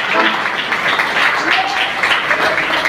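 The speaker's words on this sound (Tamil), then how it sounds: "நல்ல உச்சமா கைத்தட்டி அவர் நாமத்தை உயர்த்த போகிறோம்." A church congregation claps hands during a Sunday service, giving a continuous dense patter of many hands at close range, with some voices mixed in.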